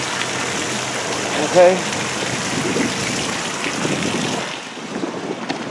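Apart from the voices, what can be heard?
water draining from RV tank at dump station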